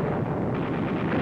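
Heavy artillery shell exploding on an 88mm gun position in a North African desert battle in 1943, a dense, sustained rumbling roar without clear separate blasts, loud and continuous.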